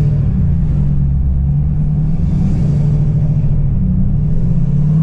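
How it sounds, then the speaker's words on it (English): Ford 6.7 Powerstroke diesel pickup truck driving under a highway overpass, a loud, steady deep engine rumble and drone filling the whole stretch with no speech. "I love the way this truck sounds going under one of these overpasses"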